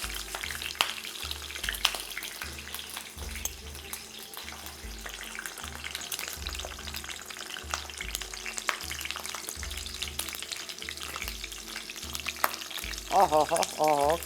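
Peppers fry in hot oil in a pan, giving a steady close sizzle with bursts of sharp splattering pops, and a brief voice-like sweep near the end.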